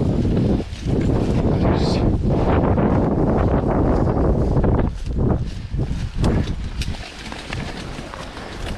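Steady roaring wind buffets the microphone in a broad rush, with brief gusty dips and rustling bursts, loud and close throughout.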